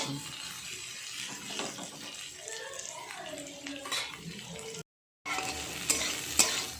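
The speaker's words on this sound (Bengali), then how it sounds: "এই মশলাটাকে ভালো করে একটু নাড়াচাড়া করে কষিয়ে নিচ্ছি" Masala stir-fried on a low flame sizzles gently beneath repeated scraping stir strokes, with a brief gap of silence before the stirring picks up again.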